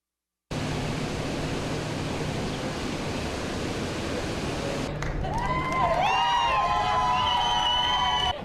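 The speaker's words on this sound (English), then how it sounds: "Look at all the crowd." A dense, steady roar from a large crowd at the Spirit of Ontario fast ferry's maiden voyage, with rising whistles and cheers breaking through toward the end.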